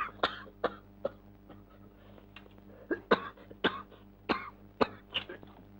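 A man coughs repeatedly in a film scene, about a dozen dry, harsh bursts in an uneven rhythm, some sounding like throat clearing, close and fairly loud with no talking.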